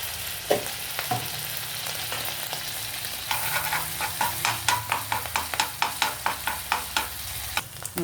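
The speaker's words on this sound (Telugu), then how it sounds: "ఇప్పుడు కొంచెం అల్లం వెల్లుల్లి పేస్ట్ ఫ్రై చేసుకోవాలి." Ginger garlic paste frying in a pan for a fish and egg fry, a steady close sizzle with repeated scraping and stirring clicks from a utensil, growing busier in the second half, with no voices.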